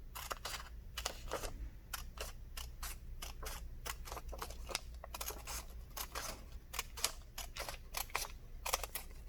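Scissors snipping through paper along a dotted line, a quick series of crisp, close cutting clicks in irregular bursts against a quiet background.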